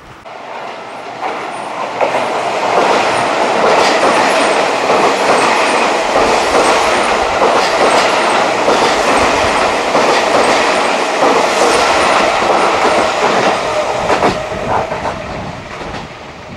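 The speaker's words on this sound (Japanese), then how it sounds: "ここは今行ったあの電車はですね、秩父行きなんですよ" A Seibu line train bound for Chichibu runs loud and steady past Koma station, its wheels clattering over the rails for the whole stretch with no voices heard.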